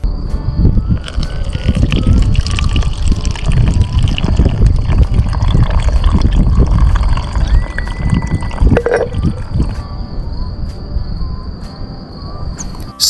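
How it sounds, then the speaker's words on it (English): Wood ash steeped in water being filtered and poured, a steady close trickle of liquid running for several seconds with a faint insect-like whine in the background. "After it sits, filter the liquid."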